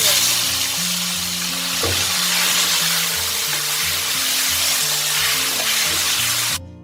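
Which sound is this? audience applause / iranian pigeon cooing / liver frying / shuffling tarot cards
liver frying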